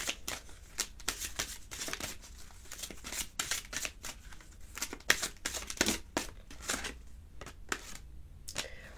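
Tarot cards being shuffled by hand: quick, crisp riffling bursts repeating irregularly, close and fairly soft, with no talk over them.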